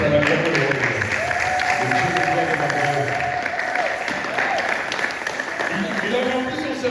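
A church congregation at a Sunday service applauding steadily throughout, loud and dense, with voices and a sung melody running underneath.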